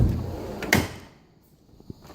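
A drawer on a Mac tool box slides and bumps shut once, a short loud clatter of metal close by, followed by quieter small rattles and knocks inside the drawer.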